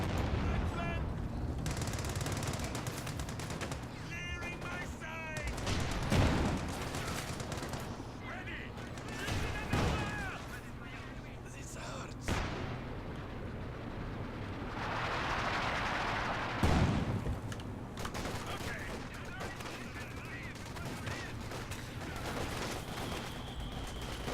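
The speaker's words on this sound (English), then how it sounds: "nasty Werfer barrage" A Nebelwerfer rocket barrage in Company of Heroes 2, with bursts of rocket launches and impact blasts among ongoing battle gunfire on a winter map while a commentator talks throughout.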